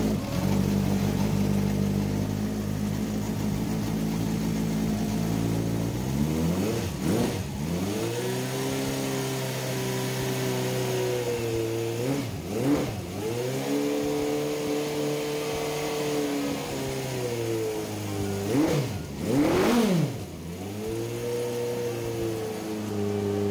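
An old Honda motorcycle engine, a classic CB-series four-cylinder restored in a vintage bike shop, runs close by at a steady idle and is blipped three times into sharp revs that fall back each time.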